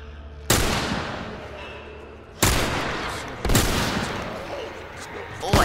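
Rifle fire in The Last of Us while fighting bloaters in a tunnel: three loud, sharp shots spaced a second or two apart, each trailing a booming echo, with another shot starting at the very end.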